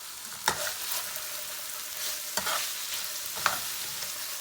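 Steak sizzles steadily in a pan, a close bright frying hiss broken by three sharp pops or stirring clatters, with no talk.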